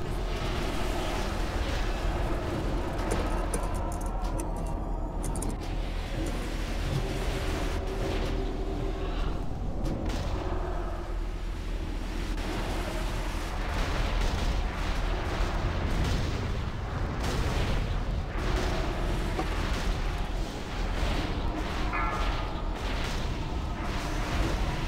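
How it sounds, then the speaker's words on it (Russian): Cannon fire bombarding a ship during a video game raid, a dense, continuous barrage of booms and blasts with crackling bursts layered over a rumbling roar. "Корабль под обстрелом! Заклинатели сюда! Пусть заткнет эти пушки!"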